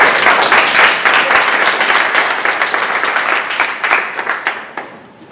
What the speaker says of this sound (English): please join me in a great number round of applause